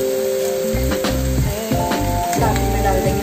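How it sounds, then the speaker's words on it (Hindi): Chopped ginger sizzles in a hot pan of oil for matar paneer, a steady crackling fry under loud, rhythmic clinks and scrapes of a utensil stirring against the pan. "ये साथ में डाल दिया ताकि भून जाए अच्छे से"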